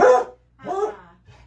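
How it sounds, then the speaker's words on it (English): A pet dog barks in short bursts indoors: a loud bark up front, a second bark after a brief pause, then a faint trailing yip, close to the listener with no talk over it. "No, you're not going to sit here and bark."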